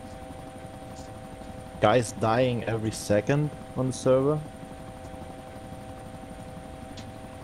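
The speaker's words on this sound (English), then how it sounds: "I hear a chopper." A helicopter in an online multiplayer shooter game gives a steady, droning rotor hum throughout, with someone talking loudly over it partway through.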